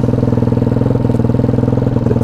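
A Daytona 212cc engine fitted to a Grom clone motorcycle idles loud and close, with a fast, even chugging pulse and some clatter, running alone without voices.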